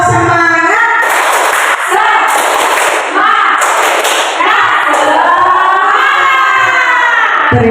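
A group of teachers at a school training session doing tepuk semangat, a rhythmic clapping routine: loud, close bursts of claps in a set pattern, mixed with many voices chanting together.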